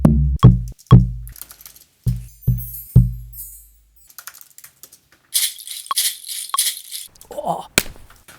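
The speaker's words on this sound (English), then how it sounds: "you can hear the effort that I put into breaking that stick" A stick is snapped by hand in a series of sharp woody cracks and snaps, several in quick succession, followed by rustling and scraping sounds.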